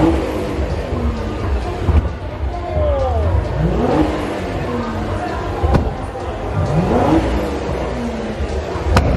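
Twin-turbo Nissan 350Z revving at a busy car meet, rising and falling engine pulls sweeping up in pitch over loud, constant crowd and traffic noise, with people talking nearby.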